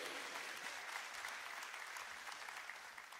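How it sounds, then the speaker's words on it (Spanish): Church congregation giving a loud, sustained round of applause, dense steady clapping from a crowd with no clear voices, heard at moderate distance. "denle un fuerte aplauso a todos los que vinieron aquí el día de hoy"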